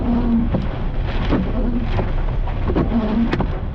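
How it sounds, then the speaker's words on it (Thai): Heavy rain pours steadily during a thunderstorm on a mountain road in Mae Wang district, Chiang Mai, a dense continuous roar with a few sharper bursts, close and loud throughout. "ฟ้า ฟ้าฝน พิโรดหนัก"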